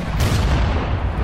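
Cannon fire in Assassin's Creed Unity on the streets of Paris: a dense, loud wall of booming artillery that rumbles continuously, with a sharper blast near the start.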